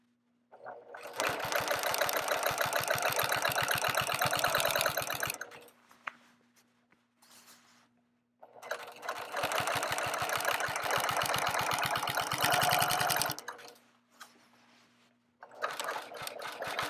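Rapid mechanical chatter of a sewing machine fitted with a walking foot, stitching a quilt in two long bursts with a third starting at the end, separated by near-silence.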